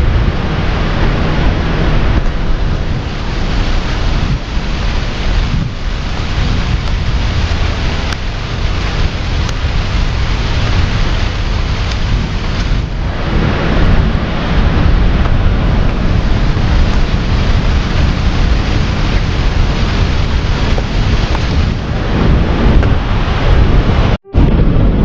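Magod Waterfall thundering down, a loud, unbroken broadband roar of crashing water that stays constant and close throughout, with a brief dropout near the end.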